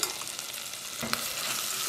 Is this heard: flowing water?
no